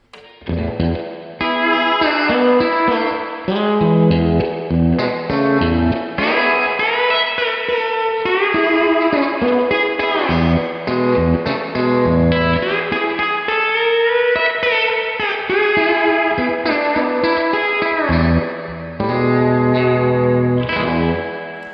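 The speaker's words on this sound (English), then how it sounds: "So two 1176 compressors running into each other into a 60s style spring reverb." An electric guitar plays through two 1176-style compressor pedals chained into a 1960s-style spring reverb, giving a loud, dense, sustained tone with a washy reverb tail across a continuous melodic passage, heard alone.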